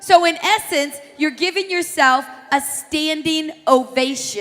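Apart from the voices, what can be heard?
No everyday noises stand out.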